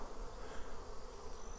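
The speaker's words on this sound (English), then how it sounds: "there are a bunch of European bees, honeybees, if you will" Wild European honeybees hum in a continuous, even drone at their hive in a hollow dead oak tree, a soft steady swarm buzz with no voices.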